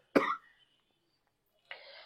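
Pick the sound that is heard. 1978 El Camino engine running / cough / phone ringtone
cough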